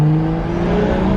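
A BMW 335i with a single-turbo engine revs hard on a dyno, giving off a loud, steady, close-up drone with a strong tonal whine that holds throughout, with no talking.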